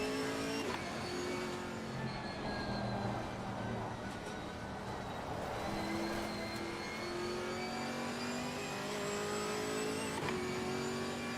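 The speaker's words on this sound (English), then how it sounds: "So now we have GT4 leaving for qualifying" Race cars revving and accelerating in Assetto Corsa Competizione as GT4 cars leave the pits for qualifying at Spa, with steady engine drone and rising, overlapping gear-change whines throughout.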